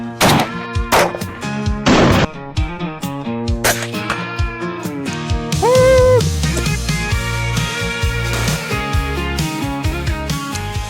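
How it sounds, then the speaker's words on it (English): A Smith & Wesson Bodyguard 2.0 pistol firing .380 +P 90-grain XTP rounds, a few sharp gunshots early on, then a busier mix of impacts and tonal sounds with no talking. "Let's get to shooting."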